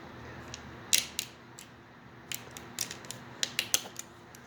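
Cutters slicing an ignition wire in half during a Dyna coil install on a motorcycle: a series of close, sharp crunching snips and creaky ratcheting clicks in an irregular rhythm, heard alone without talk.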